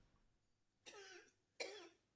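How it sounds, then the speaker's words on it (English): A woman coughs twice in another room, two short harsh bursts about three quarters of a second apart, muffled and fairly faint over quiet room tone. "I'm pained that my mother's coughing right now"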